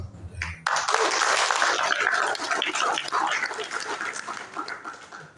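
An audience at a cultural dialogue event in Blitar breaks into applause, a sustained crackle of clapping that swells and then gradually thins out.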